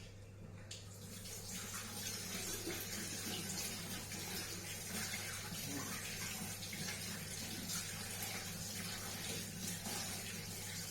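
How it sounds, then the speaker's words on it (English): Water runs steadily from a tap during handwashing in a home kitchen, a continuous broadband rush heard close and alone, with a low steady hum underneath. "Let's wash my hands."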